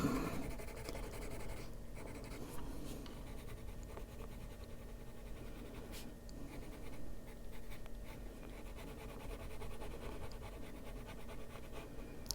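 A colored pencil is worked over paper with heavy pressure, a steady, close scratchy rubbing that goes on without a break, faint and dry, with no voice over it.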